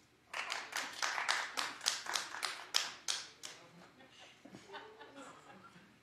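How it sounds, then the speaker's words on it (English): A studio audience at a talk show claps in a burst of about a dozen sharp, evenly spaced claps that fade into scattered claps and light chuckling. "Clap if you have a storage unit."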